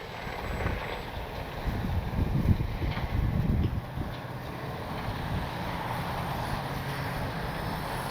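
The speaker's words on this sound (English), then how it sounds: "Pretty day, but just so windy." Strong gusty wind blowing across an RC airfield, buffeting the microphone with low roaring surges that peak briefly and then settle into a steadier rushing whoosh, with no voices.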